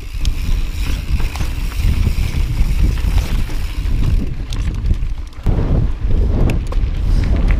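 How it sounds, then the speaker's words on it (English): Strong gusting wind buffets the microphone on an exposed mountain biking trail at Oil Well Flats near Cañon City, Colorado, a loud continuous low rumble that surges and briefly eases before roaring again. "If you can hear me in this wind."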